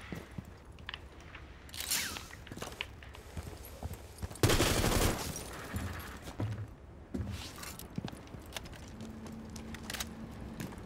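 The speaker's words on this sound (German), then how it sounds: "Explosion, ja." In Rainbow Six Siege, a single loud explosion bursts in the middle amid sporadic gunfire and clatter, then fades back to scattered game noise.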